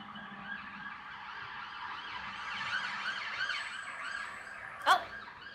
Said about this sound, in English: Oh, that's an ambulance.